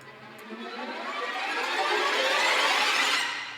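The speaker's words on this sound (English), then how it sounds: "let's load the Sol Ponticello tremolo rises" Sul ponticello string tremolo rise, a glassy, shimmering bowed texture that swells steadily in brightness and loudness before easing off at the end, with no voices.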